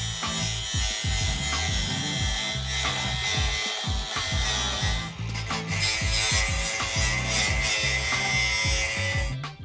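A garage roof panel has its last end trimmed, giving rapid, rhythmic rasping strokes of a cutting tool on panel material, loud and close, with a brief pause midway before the cutting resumes.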